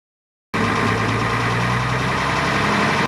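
A classic post-war long-bonnet Mercedes-Benz truck, medium-heavy with its engine ahead of the cab, starts after a moment of silence and then holds a loud, steady, close diesel idle with a throbbing low rumble.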